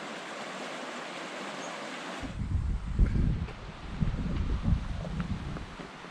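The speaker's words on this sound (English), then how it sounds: "this is the stream itself that actually comes out from underneath those rocks and through the mountain" A mountain stream in Colorado's Lost Creek Wilderness gushes out from beneath rocks, a steady rushing wash that swells and churns close by after a brief stretch of hiss.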